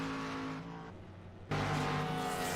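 A race car's engine drones steadily as it rolls down pit road at the 50 mph pit speed limit at Las Vegas Motor Speedway, dipping briefly before a louder, closer surge of engine noise.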